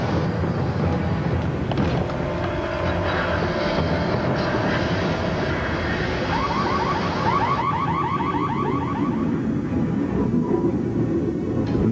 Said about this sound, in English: The general alarm is sounded.